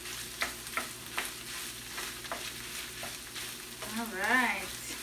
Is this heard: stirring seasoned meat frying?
yes